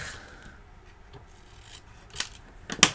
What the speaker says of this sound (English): I just cut it in half.